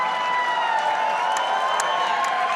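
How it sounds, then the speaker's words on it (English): Crowd at a kickboxing event between Carl Jefferson and Matt Tinker applauds and cheers in a steady, dense wash of clapping and voices, with a few sharper shouts rising above it. "How about a round of applause for both of these kickboxers"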